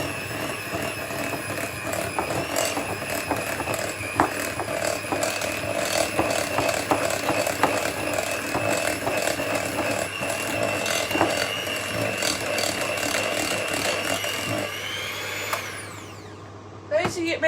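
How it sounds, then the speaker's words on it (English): An electric whisk mixes Bakewell tart batter, giving a loud, steady mechanical whirr with rattling against the bowl for about fifteen seconds before it slows and stops. "Right, so I'm going to whisk this."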